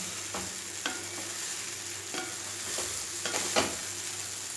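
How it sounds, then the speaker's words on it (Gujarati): Spiced dhokla is gently mixed and tossed in a kadai, giving a steady low sizzle with soft scraping and stirring strokes, without any talk. "હળવા હાથે આપણે બરાબર બધું મિક્સ કરી દઈશું."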